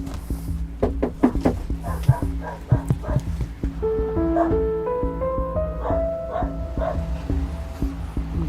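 A dog outside a house barks repeatedly in sharp bursts, then breaks into rising, drawn-out whimpering whines, close and loud, with footsteps and a person's voice mixed in.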